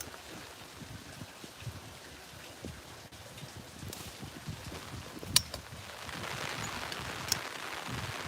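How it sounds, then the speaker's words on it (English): Heavy rain falls steadily outdoors at Heathrow Airport, a soft continuous hiss with scattered drops and a couple of sharp taps, no one speaking. "it's starting to rain again"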